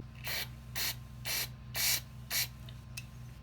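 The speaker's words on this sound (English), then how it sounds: "Be sure to hit this with some carburetor cleaner and get some air through it." Carburetor cleaner is sprayed onto a Yamaha V-Star 1100 carburetor in five short, sharp hissing bursts, followed by a couple of faint, quick puffs. Behind them runs a low, steady hum.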